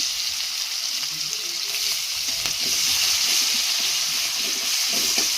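Chopped onion frying in a pan after garlic, a steady close sizzle with bright hiss and occasional stirring scrapes, no talk over it.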